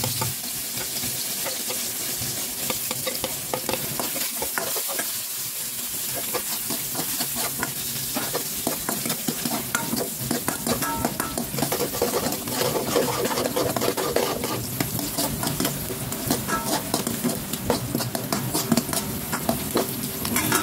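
Garlic and onion frying in a pan for pata tim, a loud, dense, continuous sizzle and crackle with a light spatula scrape, heard close and without talk.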